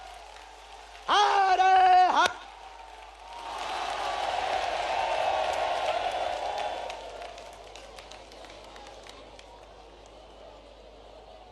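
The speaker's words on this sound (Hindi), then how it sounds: "जोरदार ताली बजा करके हम सब पूरा बागेश्वर परिवार स्वागत करें" A large crowd at Bageshwar Dham in Bundelkhand claps and cheers to welcome Prime Minister Modi, a broad sustained wash of applause swelling after a short loud chant, then fading gradually.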